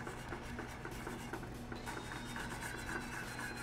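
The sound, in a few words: whisking butter into a sauce reduction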